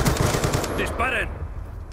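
Gunfire in Black Ops comes as rapid, loud bursts of automatic shots in the first part, with a brief tonal game cue following. The bursts blur together into a dense rattle.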